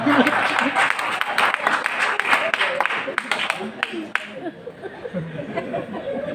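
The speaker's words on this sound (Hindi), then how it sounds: "आपने जो घनघोर तालियां बजाई हैं" A crowd at a Hindi poetry recital claps loudly and steadily, with some chuckles mixed in, before the applause fades into murmuring and talk.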